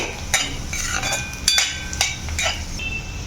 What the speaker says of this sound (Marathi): आता हे सर्व छान आपण आता मिक्स करून घ्यायचं आहे